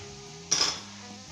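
A metal utensil clinks once against a dish while crispy potato aloo bhujia is served out, a single bright close clink with a short ringing decay over quiet room hum.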